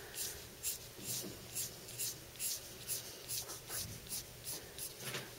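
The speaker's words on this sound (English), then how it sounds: "Now I'm just going to start to put some contour lines in around the eye." Graphite pencil sketching contour lines onto paper around an animal's eye, steady close-up scratchy strokes repeating in a regular rhythm of about two per second, heard alone without speech.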